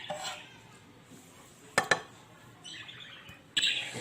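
Pet birds chirp and tweet in a home kitchen where sweet croquettes are being made, with short high calls toward the end, after a couple of sharp clinks of dishes or utensils.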